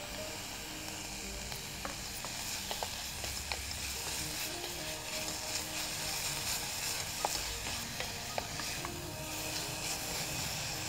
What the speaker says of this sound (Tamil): இது லேசா வதங்கினா போதும்.